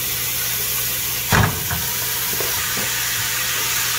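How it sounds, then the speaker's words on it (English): Ground beef and Italian sausage mixture sizzles steadily in a large pot, a continuous loud hiss broken by one brief clunk of a utensil, with no voices. "in this large pot we're going to add our ground beef and Italian sausage mixture right on in there"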